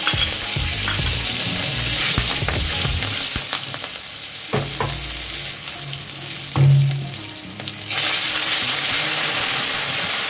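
Black cumin and crushed chili frying in hot oil for a Bengali fish curry, a close, continuous crackling sizzle with spatula scrapes and stirring clatter, steady throughout with no talking.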